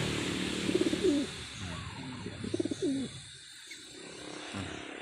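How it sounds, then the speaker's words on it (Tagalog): Breeding pigeons in a loft coo in several soft, close, throaty rolling bursts over a faint background hum, with no talking. "Check natin yung pangalawang breeders natin kalapatid."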